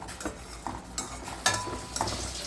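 Tomatoes being turned over in a cooking pan for homemade chicken pizza, giving soft scraping and stirring sounds with a faint sizzle, a few louder scrapes near the middle, close and fairly quiet with no talking.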